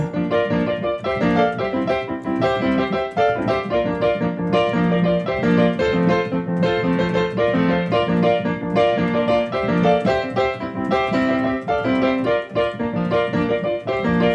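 A piano vamps with a groovy, doubled left hand, playing a continuous rhythmic pattern of full chords. The sound is loud and dense throughout, with no talking.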